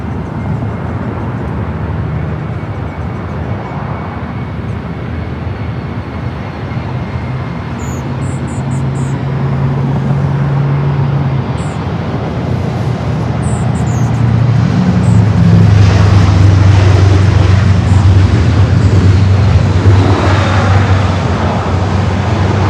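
A Boeing 777-300ER jet airliner spools up for takeoff at LAX, a broad roar building steadily from a distance and growing louder toward the end, with a low engine drone throughout.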